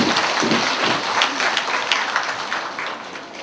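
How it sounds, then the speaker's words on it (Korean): A hall audience at a Buddhist academic society gathering breaks into sustained, even applause, many hands clapping together at moderate loudness without a break. "다시 한번 큰 박수 드립니다."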